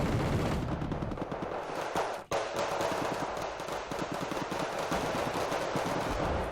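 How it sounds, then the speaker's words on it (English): Rockets and gunfire pour in during a World War I–era strategy war game, dense continuous bursts of shooting and explosions with a brief dip near the middle before the barrage resumes at full loudness. "and then rockets coming in."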